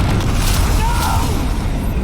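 A booming spell blast from the Confringo curse in the wizarding game Hogwarts Legacy, a loud, sustained rumble with a low crackling roar during a duel.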